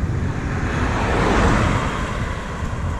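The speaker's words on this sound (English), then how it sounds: "And the wind seems to have got up an awful lot this afternoon. Feels like it's touching gale force." Strong gale-force wind roars steadily across an exposed, straight road in Lincolnshire or Nottinghamshire during a cycling audax, a loud continuous buffeting rush against the microphone with no voices.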